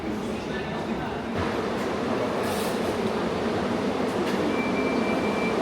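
Steady rumble of an Istanbul metro train in motion, with broadband rail and carriage noise running continuously throughout and faint speech in the background.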